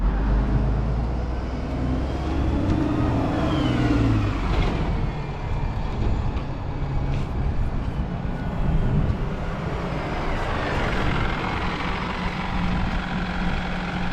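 Stagecoach buses, including a Transbus Enviro 300, rumble past at a station stop, a continuous diesel engine drone that swells and fades as they move by, with no talk over it.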